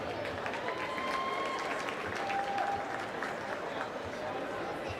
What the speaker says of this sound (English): Round of applause for Jonah Scott